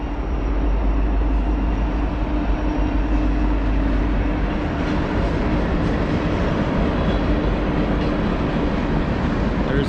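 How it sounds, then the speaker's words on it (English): A train rolls along tracks behind a residential lot, a loud, continuous rumble and rattle of wagons sustained for the whole stretch, with no talking. "the train passes about 9 times a day"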